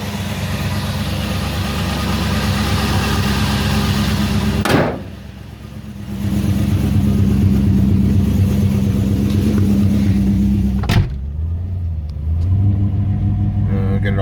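An engine on choke idles loudly and steadily up close in a garage, a low rumbling drone broken twice by sharp thuds before settling back to its running hum.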